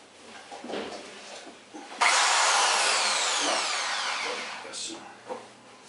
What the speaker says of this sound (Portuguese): primeiro nós vamos colocar uma broca fininha e vamos furar na lateral da base